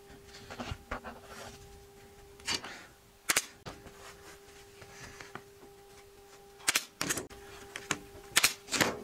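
A staple gun fires into upholstery fabric on a footstool, giving sharp isolated clacks scattered over several seconds, some doubled, fairly close against a quiet background with a faint steady hum.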